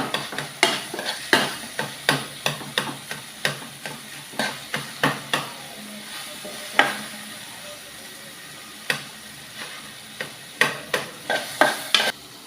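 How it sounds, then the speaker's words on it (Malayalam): Tomatoes and green chillies mashed in a frying pan for a Kerala-style chickpea curry, with repeated sharp scraping and pressing strikes of a utensil against the pan over a low sizzle, close and fairly even in rhythm. "പച്ചമുളക് ആഡ് ചെയ്യാം. നല്ലതുപോലെ ഒന്ന് ഉടച്ചു കൊടുക്കാം തക്കാളി."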